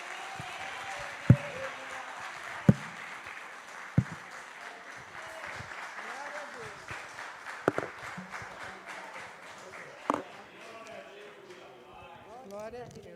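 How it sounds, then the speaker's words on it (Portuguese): A church congregation claps during an evening conference service while a preacher's voice carries over it, with a few sharper, louder claps standing out from the steady patter. "E as palmas louvam o Senhor nesta noite."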